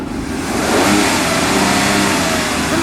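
Ford F-150 truck with a 2.7-liter EcoBoost engine and stock, quieter exhaust, revving up and holding a steady, fairly loud engine drone for a few seconds, with no talking.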